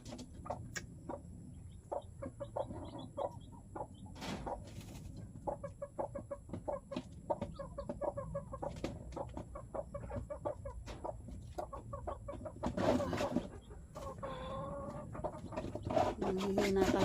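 Chickens and young chicks cluck and peep continuously around a coop, with several birds calling at once at moderate distance and a brief louder flurry partway through.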